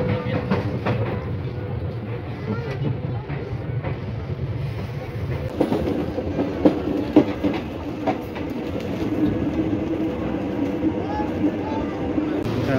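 A train rumbles steadily through Tanah Abang station in Jakarta, a continuous low rolling noise with faint rail clatter and a few brief knocks, heard from fairly close under general station ambience.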